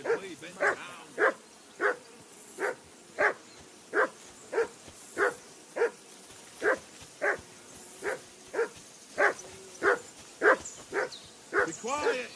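A dog barking in the medieval game Kingdom Come Deliverance 2, nearly twenty sharp, evenly spaced barks in a steady rhythm, moderately close and standing out clearly over a quiet background.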